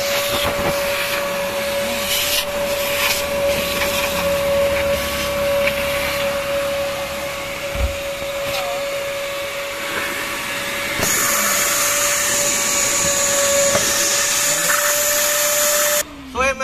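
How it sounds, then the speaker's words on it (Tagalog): A wet-and-dry vacuum sucks water from a Mitsubishi Pajero floor, droning steadily with a constant motor whine, its suction rising louder and hissier near the end, with light clatter underneath. "kailangan po natin gamitan ng vacuum na wet and dry"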